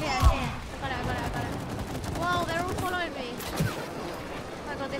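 Gunshots pop in It Takes Two during a co-op shooting sequence, with a couple of sharp reports standing out amid busy game sounds while players talk excitedly over the action.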